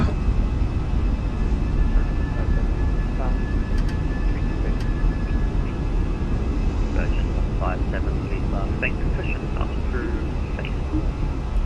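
A Fenix A320 airliner takes off and climbs in the MSFS flight simulator, a loud, steady broadband engine roar throughout, with faint cockpit tones and a voice speaking over it.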